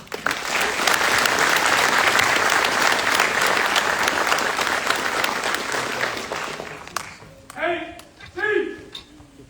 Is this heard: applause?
yes